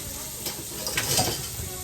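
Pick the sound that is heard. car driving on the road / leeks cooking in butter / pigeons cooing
leeks cooking in butter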